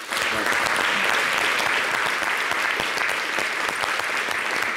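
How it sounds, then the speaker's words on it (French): A studio audience at a French holiday TV show breaks into loud, sustained applause: a dense, even wash of many hands clapping at once, close and continuous throughout. "on les applaudit très fort"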